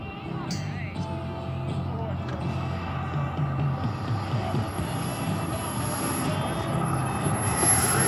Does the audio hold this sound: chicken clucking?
no